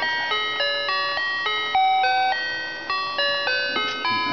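An electronic chime at an electric ice skating rink plays a Christmas carol as a bright, steady melody of clear single tones. It is loud and close, with no voices.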